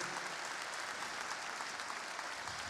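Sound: congregation applause

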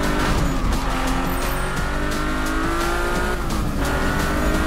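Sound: Nissan GT-R Premium car driving, tires squealing, Need for Speed video game

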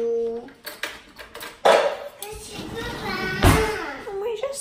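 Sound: grabbing a spoon from the kitchen utensils

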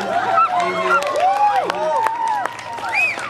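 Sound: audience member imitating a chicken sound

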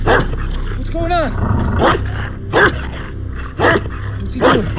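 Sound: dog barking

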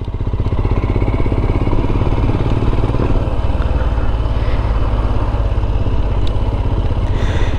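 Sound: motorcycle riding

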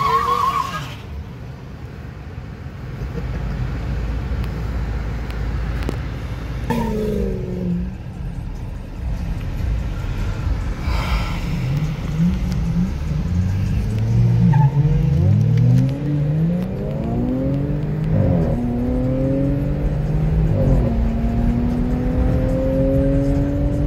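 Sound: Ford GT500 and Mercedes C43 AMG cars racing

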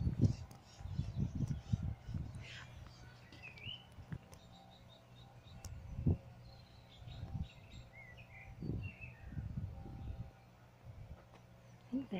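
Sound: magpies and finches calling in a park

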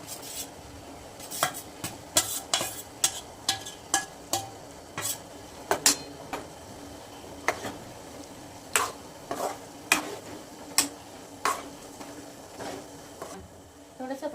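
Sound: potatoes added and stirred in a sizzling pan

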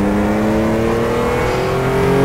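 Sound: race car engine in video game RACE 07

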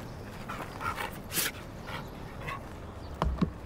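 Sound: dog

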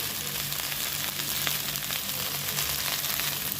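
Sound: okra and onions frying with spices in a pan

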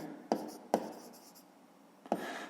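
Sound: writing by hand on paper

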